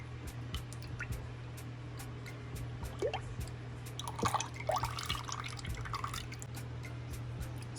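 Heavy whipped cream pours into a bowl for grape nut ice cream, heard as faint wet drips and soft liquid squishes over a low steady hum in a quiet kitchen.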